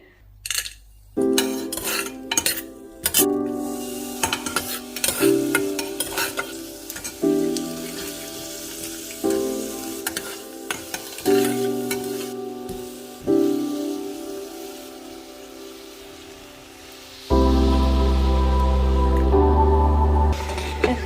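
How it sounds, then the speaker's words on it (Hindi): Chicken and vegetables with turmeric powder frying in a small pressure cooker, with repeated metal clinks and scraping of stirring between bursts of sizzle, then a louder, steady sizzle toward the end. "तो यहाँ पे मैंने चिकन दे दिया है, साथ में दे दिया है हल्दी पाउडर"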